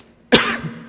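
A single sharp cough from an audience member during an evangelism lecture, one close, abrupt burst with a short rasping tail, heard alone in a quiet room.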